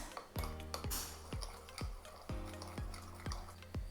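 Homemade gochujang sauce paste with homemade chilli flakes is mixed with a spoon in a bowl, giving about eight regular knocking scrapes against the bowl, close and fairly quiet.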